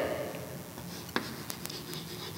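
Chalk or marker scratching out a number on a classroom board, a few short faint strokes with small taps, close by, no talk over it.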